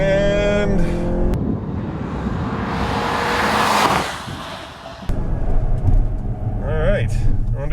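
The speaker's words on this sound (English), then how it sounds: "I've got it floored, pedal to the metal" A 2015 Mazda6 at full throttle on a race track, its engine note climbing steadily before a brief dip as the gear changes, then pulling again, with a driver talking over it inside the cabin.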